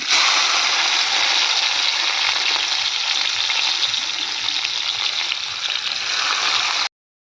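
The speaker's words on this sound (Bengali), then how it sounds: "তো প্রথমে আমি করলাটা ভেজে নিলাম" Thin slices of bitter gourd (karela) fry in a pan with a loud, steady, crackling sizzle that holds unbroken for about seven seconds, then stops abruptly.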